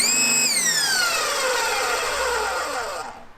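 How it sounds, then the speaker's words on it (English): Westinghouse ePX3000 110-volt electric pressure washer with a universal motor starting up: a loud, close high-pitched whine that sweeps down in pitch as it spins, then holds a steady scream before cutting off at the end. "Turning the unit on, and we're greeted by the sound of pretty much every universal motor powered 110 volt electric pressure washer on the market"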